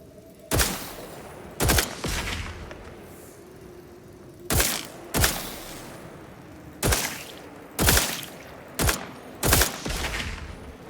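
A new gun in The Outer Worlds 2 on very hard difficulty, loaded with 1400 bullets and sometimes launching rockets, firing in sharp loud bursts: about nine cracking shots in pairs and singles, each with a short ringing tail, close and prominent with no talk.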